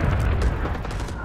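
Gunfire in the Vietnam War video game Rising Storm 2: Vietnam, a brief loud burst of shots and booming impacts, close and dense.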